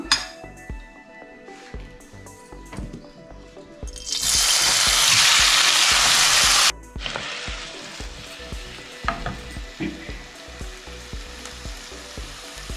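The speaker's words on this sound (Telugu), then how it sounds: "ఇప్పుడు ఇంకొక టేబుల్ స్పూన్ ఆయిల్ వేసుకొని ఈ టమాటాలన్నీ వేసేద్దాం." Tomatoes hit a pan with a tablespoon of oil, bursting into a loud hissing sizzle for a few seconds before settling into softer frying, with utensil clinks and stirring scrapes around it; nobody speaks.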